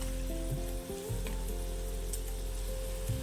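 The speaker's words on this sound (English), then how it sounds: "Now stir and mix every ingredient properly." Snake gourd sabji with turmeric, hing, salt, sugar and chili powder being stirred in a vessel, a steady close sizzle with a few scraping stirs.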